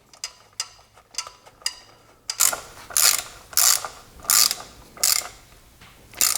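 A ratchet tightens gasket bolts on a GM 3.4L V6 engine. A run of quick, light clicks comes first, then louder, slower ratcheting strokes in an even rhythm, close up and with no voice.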